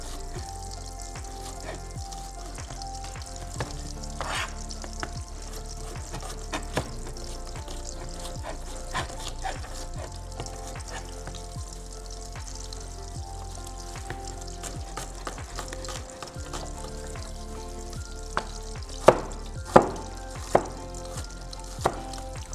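Hot oil sizzling steadily in a pan for chilli paneer, a continuous crackling hiss with scattered sharper pops and clinks, no voices.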